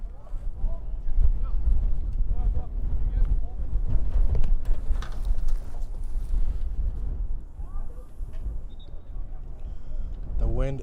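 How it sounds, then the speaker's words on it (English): Strong, gusty wind buffets the microphone in a steady low roar across an outdoor amateur football pitch during an APSL match, with voices calling out faintly underneath. "wind is a massive factor today."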